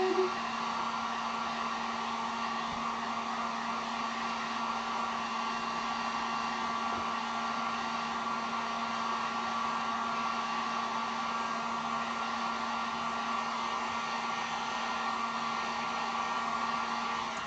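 A hair dryer heats acrylic paint on a sign, giving a steady, close, continuous whirring blow that holds evenly throughout with no voices.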